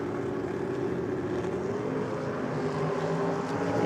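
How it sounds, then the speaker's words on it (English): A Holden Gemini drag car running a 383 Chevy engine at a championship drag race holds a loud, steady droning engine roar that sits at constant strength throughout, with no voice. "Holden Gemini is going to leave the line first. Both sporting 383 Chevys."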